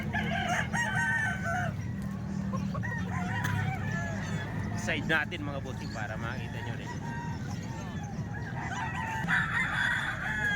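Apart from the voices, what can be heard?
chickens and roosters at a market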